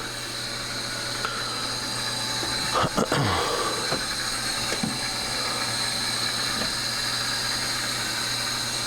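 Machinery in the engine room of a 54 m steel-hulled Benetti yacht runs with a steady, loud droning hum, a few brief knocks and thumps surfacing midway through.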